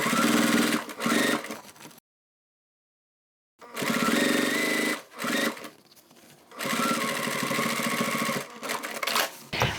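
Electric sewing machine top stitching the pocket of a crossbody bag, running in loud, steady motor bursts separated by pauses and brief silence, close and alone without talk.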